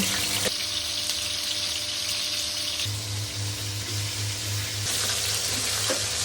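Crab frying in hot, splattering oil, a steady close sizzle with crackling bursts and a low hum underneath, continuous throughout with no talking.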